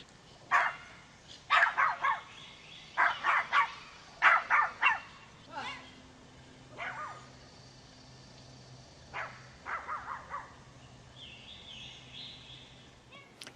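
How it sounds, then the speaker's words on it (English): Dogs bark in a courtroom-show segment, a series of loud sharp barks and yips in clusters, then fainter scattered barks, with a steady hum beneath. "And that's your dog, sir?"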